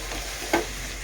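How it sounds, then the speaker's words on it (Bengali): Meat and rice cooking in a pan, giving a steady soft sizzle with one brief scraping stir near the middle, alone with no voices. "মাংস ভাত রান্না হচ্ছে"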